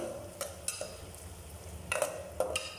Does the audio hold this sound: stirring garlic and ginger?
yes